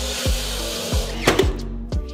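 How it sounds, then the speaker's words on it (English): Nail gun firing into strip wood against tongue and groove wall panelling: four sharp pneumatic bangs spaced unevenly over a steady compressor hum, close and loud. "then I secure it at an angle using my nail gun"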